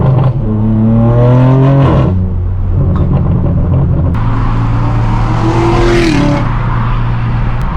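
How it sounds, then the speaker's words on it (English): A Corvette roars past on a Los Angeles street, its engine note sweeping and rumbling loudly over steady traffic noise, heard from inside a straight-piped BMW M4 F82 with loud exhaust. "That's a Corvette."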